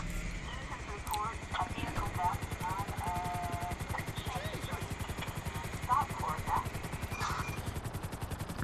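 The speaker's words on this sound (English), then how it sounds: "I'm gonna get in your helicopter." Helicopter in Grand Theft Auto, a fast, steady rotor chop thudding rhythmically throughout at moderate level, with a voice talking over it.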